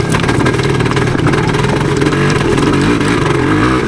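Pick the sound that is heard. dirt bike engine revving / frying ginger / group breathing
dirt bike engine revving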